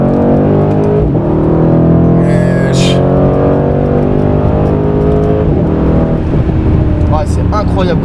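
A Mercedes C63 AMG engine roars loudly and steadily under load while drifting, with a brief tire squeal, and people talking over it.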